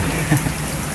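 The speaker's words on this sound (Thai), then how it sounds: "เนื่องด้วยฝนตกก็ ทำให้เรือไม่สามารถออกได้นะเพราะว่าตกหนักเหมือนกันนะ" Heavy rain pouring down steadily in Phatthalung, a constant broadband wash with no clear breaks, close and moderately loud throughout.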